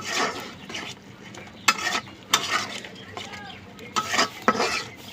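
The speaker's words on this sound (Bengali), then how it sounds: "এখন ধুয়ে থোয়া চিংড়ি মাছগুলোর মধ্যে দেবো। একটু ভালো করে কষে নেব।" Washed shrimp are sautéed in a pan with spiced oil, with irregular bursts of spoon-on-pan scraping and clatter over a soft, steady sizzle, close and fairly loud.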